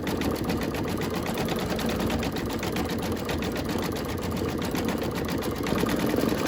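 An embroidery sewing machine stitches a turkey mug rug design, a steady rapid mechanical chatter running evenly throughout at moderate, close volume with no talking.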